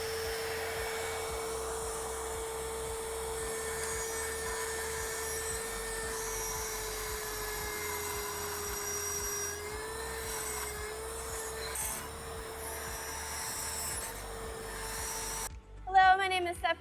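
An NX carbide burr grinds stainless steel with a steady whining tone that holds for long stretches and wavers slightly, with a rough scraping hiss underneath, then a few sharp clatters near the end.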